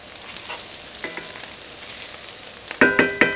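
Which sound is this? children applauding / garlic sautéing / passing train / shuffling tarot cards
garlic sautéing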